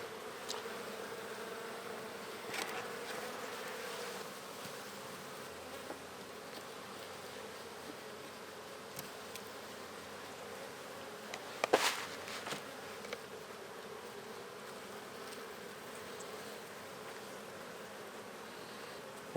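Honey bees buzz around an open hive in an open-air setup, a soft continuous drone of many wings with a few louder passes close by.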